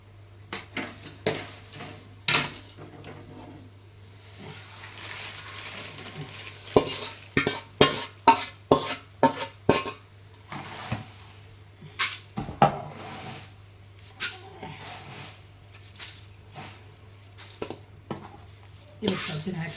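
Sour buttermilk is stirred into fried poha in a pan for spicy North Karnataka-style poha made with buttermilk chillies. A spoon scrapes and clinks against the metal in quick, irregular close-up strokes over a steady low hum.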